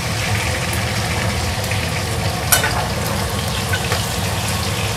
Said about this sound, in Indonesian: Ini mau aku goreng.